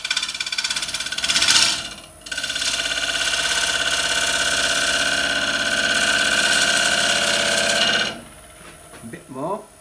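A woodturning lathe spins while a tool cuts about two millimetres off the wood with its bevel rubbing, a steady humming drone with a gritty scraping edge that runs for about six seconds after a short break, then winds down.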